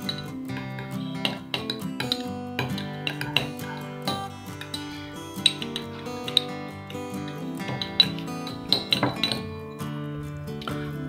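Two beauty ingredients, Nivea Creme among them, being stirred together in a container: repeated light clinks and taps of a utensil against a glass or hard jar, irregular and close, with no talking.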